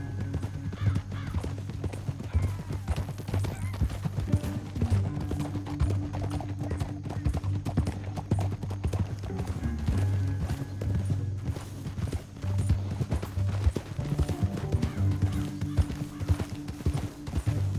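In Red Dead Redemption 2, several horses gallop with dense, rapid hoof clip-clops, loud and continuous, over a low rumbling game backdrop with an occasional neigh.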